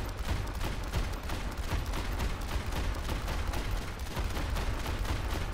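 Ashe's rifle firing in rapid succession in the video game Overwatch, a dense, steady volley of sharp shots with no pauses, loud and continuous throughout.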